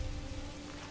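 Steady rainfall in the medieval village-building game Manor Lords, a soft, even hiss of drops on surfaces that carries on without a break and with no talk over it.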